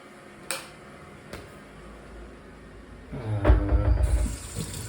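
Water running from a tap in a cheap apartment: a couple of faint clicks, then the flow starts partway through and pours steadily and fairly close, louder and rushing to the end.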